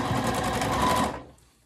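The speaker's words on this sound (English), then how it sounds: "we're gonna sew across the bottom here" A sewing machine runs a seam across the bottom of a reusable fabric shopping bag, humming steadily and close by for about a second before it stops.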